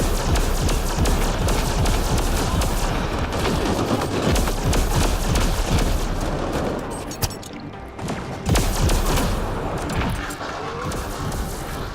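Sustained rapid gunfire from the sci-fi shooter Mass Effect Andromeda: dense, overlapping bursts fill nearly the whole stretch, loud and close, with only a couple of brief dips in the firing.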